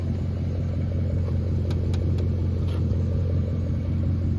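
A straight-piped 2002 Mercedes CLK430 with 170,000 miles and a rusty body, which had sat unused for a couple of years, idles with a steady, deep, close rumble and no break.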